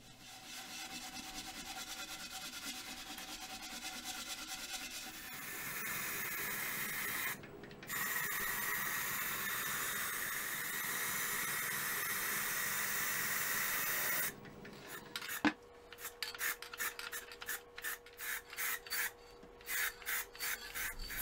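Sandpaper hisses steadily against a wooden platter spinning on a woodturning lathe, a loud, continuous close rasp that later breaks into a rapid run of short, separate strokes.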